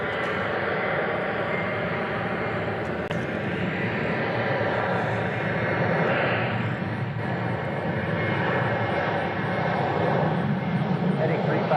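A Republic Airways jet at Nashville International Airport gives a steady, distant engine roar that swells slightly and holds for several seconds, while radio chatter and voices run over it.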